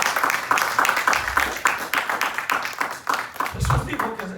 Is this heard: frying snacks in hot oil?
no